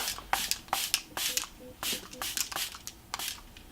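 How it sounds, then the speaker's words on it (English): Makeup setting spray with a grapefruit scent is misted in several short, soft hissing bursts, close up, amid light handling noises and pauses. "We'll just set the makeup, but yeah, the setting spray is stunning."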